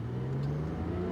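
A Porsche 911 996 Carrera 4S engine cruising on the road, a steady low drone with a constant hum heard from inside the car, no one talking.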